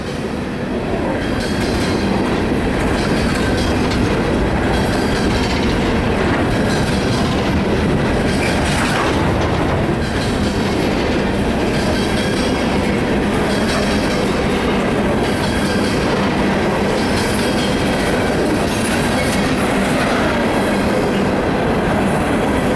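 A CSX eastbound empty coal train rolls steadily past at close range, a loud, continuous rumble with rhythmic clickety-clack from the wagons and occasional wheel squeal, with no voices.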